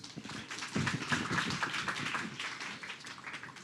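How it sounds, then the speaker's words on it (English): Audience applause at a talk event: steady, dense clapping from a crowd, moderately distant and even throughout, with no voices over it. "So can we give her another round of applause?"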